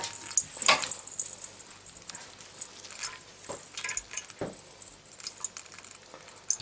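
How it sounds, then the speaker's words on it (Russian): Plum pulp being squeezed by hand for homemade wine, with juice running and dripping into a container, giving a wet squishing and trickling texture with soft irregular splashes, fairly close and moderate in level, no voices. "Отжимаем сок. Вот он бежит, стекает."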